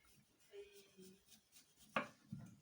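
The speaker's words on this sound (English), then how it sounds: "So now we are going to cut the onions into springs" A knife cutting onions into strips on a board for a salad: a few quiet, sparse cuts with one sharp chop near two seconds, close and soft, no voices.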